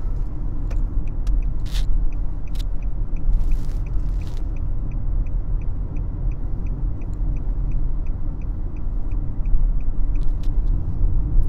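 A car drives along a road during a beginner's driving lesson, heard from inside as a steady low engine and road rumble, with a regular faint ticking, likely the turn signal, and a few brief clicks.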